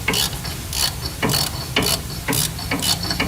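A ratchet torquing down head bolts on a 1941 Crosley engine, making rapid clicking bursts in a repeated rhythm of about five strokes, close and clear with no talking.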